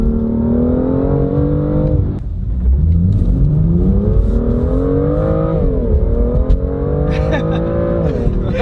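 A BMW M2 with a flash tune accelerates hard while driving, its engine note climbing steadily and dropping at each gear shift, loud and close throughout, with people talking over it inside the car.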